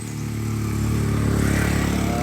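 A motorcycle engine rises steadily and holds a loud, close mid-pitched drone with a low rumble, as if the bike is drawing near and passing along a hiking route, with no talk over it.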